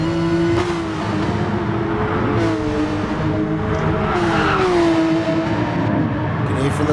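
Porsche RSR race cars in a sim racing game at Brands Hatch GP howl past with engines rising and falling, tyres scrubbing and squealing through corners, while a commentator talks over them.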